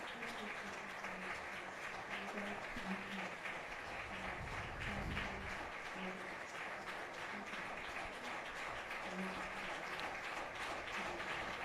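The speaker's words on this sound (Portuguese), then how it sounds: "Papa aplaudido de pé pelos presentes, agora está diante de sua sédia." A standing audience applauds the Pope as he enters an auditorium and reaches his chair, a steady dense wash of clapping from many hands throughout, heard at a distance with faint voices underneath.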